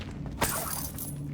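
Confringo fire-blast spell from the Hogwarts Legacy video game, a sharp shattering burst near 0.4 s above a steady low game hum, with no talking.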